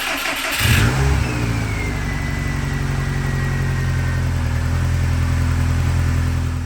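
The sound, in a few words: Subaru car engine starting and running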